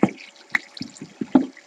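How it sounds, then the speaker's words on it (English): Water in the Minecraft video game gives a series of separate drips and plops, about seven watery knocks at irregular intervals, close with no talk. "There's the water. There's the water I've been looking for."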